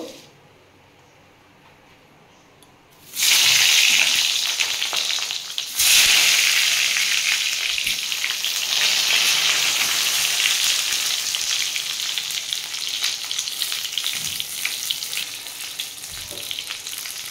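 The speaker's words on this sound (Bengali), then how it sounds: "আমি এবার এর মধ্যে বেগুনগুলো একটু ভেজে নেব।" Sliced eggplant with a pinch of turmeric hits hot oil after fish has been fried, a loud crackling sizzle bursting in after a quiet start and holding steady with brief stirring scrapes.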